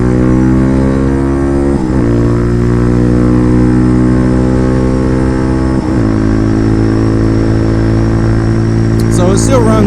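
A Bashan Motomax 250 motorcycle engine with performance upgrades runs loud and steady while riding, its pitch climbing and dropping with gear changes, and someone talks over the engine noise throughout.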